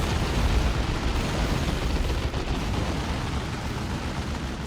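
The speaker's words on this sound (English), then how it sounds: "Another tank buster shot almost brings down the Falcon." Tank buster shot in the real-time strategy game Dawn of War 2 striking a Falcon, heard as a continuous loud roar of blasts and explosive rumble with no clear pauses and no voices.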